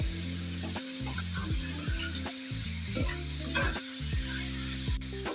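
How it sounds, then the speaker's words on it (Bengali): Prawns and onions fry in hot oil, sizzling continuously while a spatula scrapes and stirs in an irregular rhythm, close-up and steady for several seconds without any voices. "পেঁয়াজের সাথে চিংড়ি মাছগুলো ভাজা হয়ে গেছে,"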